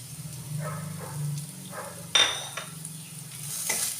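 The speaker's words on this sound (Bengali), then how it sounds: "একটু ভালো করে নেড়ে নেব" Fried grated coconut is stirred in a pan with turmeric, salt and Kashmiri chili, giving soft scraping strokes and a sharp metallic clink over a faint low hum, close up and without voices.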